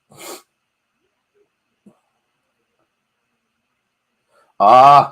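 A single loud, close sneeze bursts out after a faint breath and near silence.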